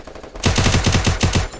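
Rapid automatic gunfire from the mobile battle royale game Free Fire: about a dozen loud, evenly spaced shots in a fast burst after a brief quiet lead-in, close and with no talking over it.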